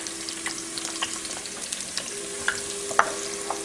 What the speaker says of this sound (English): I've heated my coconut oil, and now I'm going to add my minced shallots.